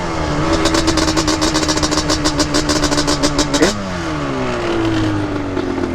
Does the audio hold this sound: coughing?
no